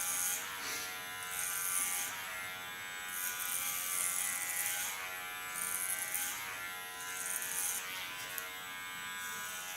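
Electric hair clipper cutting ultra short hair with a clipper comb on top, a steady high buzz that swells in repeated passes every couple of seconds, up close and fairly quiet.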